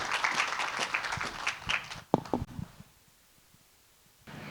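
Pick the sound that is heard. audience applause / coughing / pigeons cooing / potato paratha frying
audience applause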